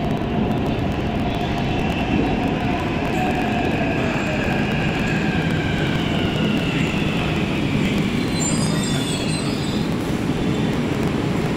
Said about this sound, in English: That is coming for me. it means this metro is going LB Nagar.